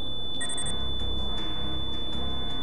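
Security camera detection tone from the Project IGI video game, a faint electronic beeping that pulses in short bursts over quiet background ambience, with a brief higher chirp early on.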